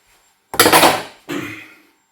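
Spoon scraping and stirring plain flour into minced beef in a pan: two close, scratchy strokes, the first longer and louder than the second, with no talking.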